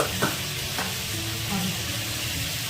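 Homemade desi ghee heating in a pan, a steady close hissing sizzle with a couple of faint clinks, alone without talk.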